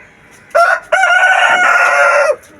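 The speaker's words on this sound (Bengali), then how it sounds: "মোরগ ডাকতেছে সকালবেলা।" A rooster crows on a foggy winter morning at a rooftop garden, one short call breaking into a long drawn-out crow, loud and close with no talk over it.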